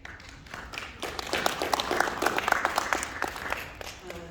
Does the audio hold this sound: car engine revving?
no